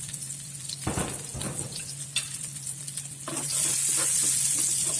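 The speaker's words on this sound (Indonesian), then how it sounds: "Kalau sudah cukup panas, kita tumis bawang putih dan bawang merah." Garlic and shallots sautéing in about two tablespoons of hot oil in a pan, a steady sizzle with occasional stirring scrapes and knocks, the frying growing louder and brighter toward the end.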